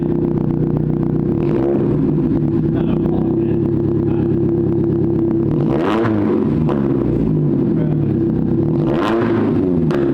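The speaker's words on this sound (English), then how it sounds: "Give it a rev actually, little blip." Rough-idling car engine with solid lifters, given short quick revs; a steady low engine rumble runs throughout, rising in brief blips around the sixth and ninth seconds, loud and close.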